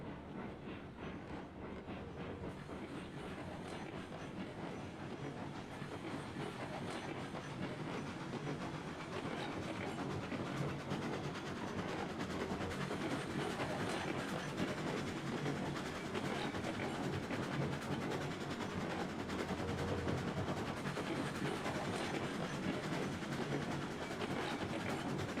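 A train runs in the railroad simulation game Railroads Online, heard from behind as a continuous, steady rolling rumble with soft rail clatter and hiss, even and unbroken throughout.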